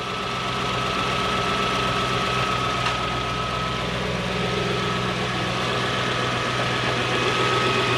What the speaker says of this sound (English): Definitely misfire, eh? It's got a good misfire.